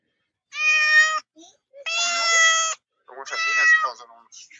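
A cat meows three times in long, loud, drawn-out calls close by, with short pauses between them and a little faint sound in the gaps.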